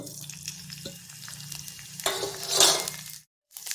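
Spices dropped into hot oil for Gujarati kheechu sizzle up sharply near the end, after a quiet stretch of low kitchen hum and faint utensil clinks, then cut off abruptly.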